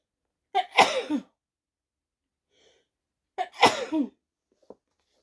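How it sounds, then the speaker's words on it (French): Two sneezes from a woman, each a sharp burst with a short inhaled lead-in, a few seconds apart and close to the microphone, with a faint small knock after the second. "Je vais éternuer."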